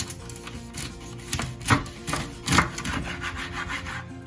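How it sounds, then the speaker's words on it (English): A knife cutting the ends off a bundle of asparagus held with a rubber band, heard as close, rough sawing and rubbing strokes with two louder chops partway through and no talking. "I'm going to cut the ends off."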